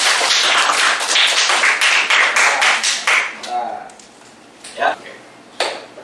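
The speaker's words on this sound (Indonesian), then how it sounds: "Bagus, tepuk tangan untuk semua." Brief burst of clapping from students in a classroom lesson, a few seconds of scattered hand claps fading out into quieter room sound with occasional sharp taps.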